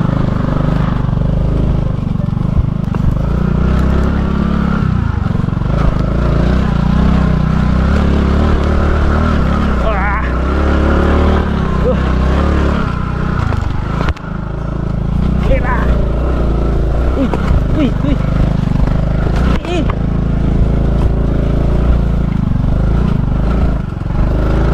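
A vehicle engine drones and revs while climbing a steep trail of tall rocks through a forest, with a constant low rumble, surges and clatter as it bumps over stones, and someone talking over it close by.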